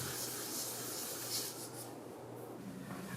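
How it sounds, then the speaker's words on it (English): A belt sander in a wood lathe workshop, its slack belt smoothing the curved contour of a wooden handle, giving a steady, close abrasive rasping whir over a low motor hum. "I like to use the slack part of the belt to sand the contour on the handle"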